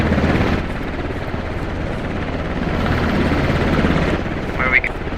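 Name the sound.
helicopter flying in a video game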